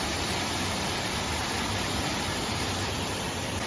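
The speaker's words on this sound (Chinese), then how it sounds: "这边还有一个瀑布呢。" A mountain waterfall on Taibai Mountain, a dense, constant broadband roar of falling water filling the whole scene, loud and unbroken, with no voices.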